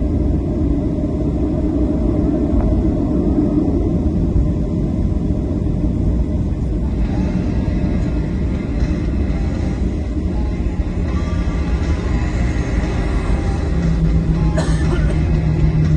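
A jet airliner departing Houston, Texas for Albuquerque, New Mexico roars steadily through its takeoff run, a loud, continuous engine rumble heard from inside the cabin with no break for the full length.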